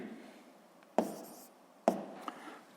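A pen writes on paper during a physics exercise, soft scratching strokes close by with two sharp taps as the tip lands.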